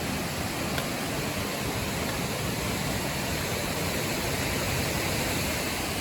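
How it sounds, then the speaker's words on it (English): Otter Falls on the Taylor River in Snoqualmie National Forest roars as a loud, steady, unbroken wash of falling water deep in the woods, with no voices over it. "Check out this waterfall though, huh?"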